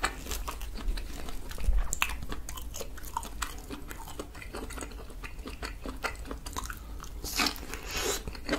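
Steady close-up chewing and biting of spicy buldak mala mushrooms, soft wet crunches repeating throughout with no talking.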